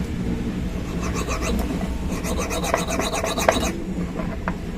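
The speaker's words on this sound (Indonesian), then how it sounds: "nih gergaji besi. Ini gunanya untuk supaya kasar." A hacksaw blade rasps back and forth over an electric fan motor part to roughen it for a bearing fit. The strokes are close, repeated and gritty, with no talking.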